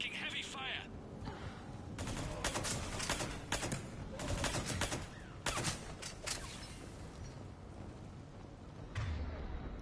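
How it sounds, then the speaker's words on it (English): Heavy gunfire in Mass Effect 3 crackles in repeated loud bursts of rapid shots, clustered volleys across the whole stretch with short gaps, set against a busy combat background and occasional voices. "Foxtrot and Bravo are taking heavy fire."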